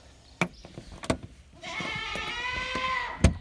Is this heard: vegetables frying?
no